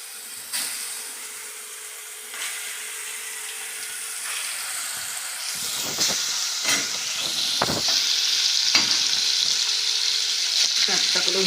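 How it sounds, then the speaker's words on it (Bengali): Chicken tikka pieces frying in oil in a pan, a steady sizzling hiss that swells over time, broken by a few sharp crackles and spatters, close and continuous. "আমি ভেজে নিচ্ছি"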